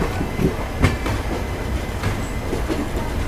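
The Purva Express passenger train runs on a parallel track, giving a steady close rumble with rhythmic clickety-clack of the wheels and a faint squeal, no voices.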